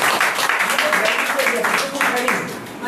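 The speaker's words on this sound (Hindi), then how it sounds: "हाँ इनके लिए जोरदार तालियां।" Audience applause following a call for loud clapping at a spiritual zone progress talk, a steady dense patter filling the room with crowd murmur mixed in.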